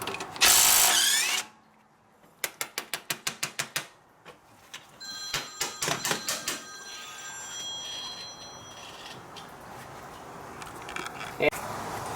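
Power tool loosening the lower ball joint bolt on a 2002-2008 Honda Accord during front wheel bearing work: close bursts of rapid impact-style hammering in two clusters, with a sharp high burst at the start and shop noise between.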